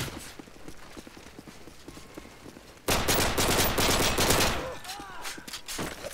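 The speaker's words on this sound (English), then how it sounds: "That was actually my first time I'm shooting in this game mode" Gunfire in a shooter game mode, a fast rattling burst that bursts in loud partway through and continues in quicker trailing shots after quieter ambient noise.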